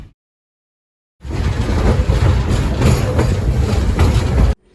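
A Tazara passenger train rolls along the rails between Zambia and Tanzania, with a steady loud rumble and rattle of carriages that starts abruptly and runs continuously for a few seconds before cutting off.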